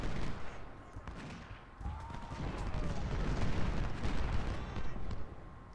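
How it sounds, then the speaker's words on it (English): Artillery and massed rifle fire from Ultimate General: Civil War form a rumbling battle din of booms and crackling shots at moderate distance, swelling after a brief lull, with no voices. "we can start utilising our artillery now, which is going to start doing some damage to these enemy troops"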